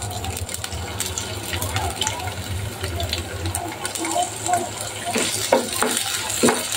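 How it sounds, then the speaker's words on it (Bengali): Shrimp frying in a little oil in a pan, a continuous close sizzle with stirring and scraping taps, while someone talks over the cooking. "চিংড়িও একটু ভেজে নিব"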